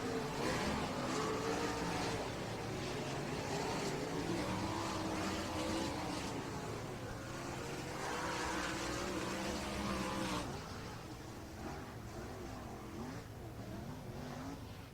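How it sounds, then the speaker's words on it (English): ASCS sprint race cars at Meeker accelerate behind the pace vehicle, a faint, distant engine drone that swells and fades across the track before dropping quieter near the end. "They'll race and catch up now to the pace vehicle."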